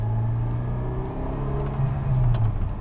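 A 1980 Ferrari 308 GTSi under way, its engine giving a steady low droning hum with slight surges, heard from inside the car as a continuous rumble for the whole stretch with no talking.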